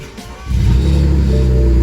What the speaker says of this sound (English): Let's see if it starts one more time.